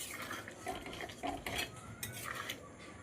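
Kabuli chickpea and chicken ghugni being stirred in a pot, quiet clinks and scrapes of a metal spoon against the vessel in an uneven rhythm over a faint simmer, no speech.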